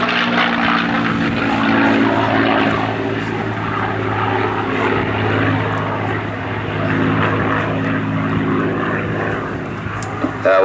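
A silver P-51 Mustang propeller fighter flies an air show pass, its engine a loud, steady, droning roar with a rich low hum that holds throughout, with faint crowd sound beneath.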